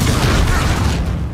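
A Confringo fire spell blast erupts in Hogwarts Legacy, a loud, dense booming burst that fills the whole moment with sustained low rumble and crackle, fading slightly toward the end.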